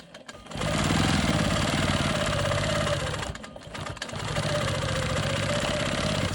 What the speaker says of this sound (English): today I'm quilting with the Janome Quilt Maker Pro 20-inch long arm